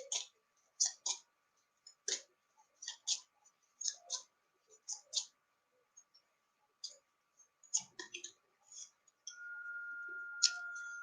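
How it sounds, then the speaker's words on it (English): Playing cards shuffled by hand in a series of quiet, crisp clicking bursts with short pauses between them, close by, followed by a faint steady tone at the end. "Shuffle, shuffle, shuffle."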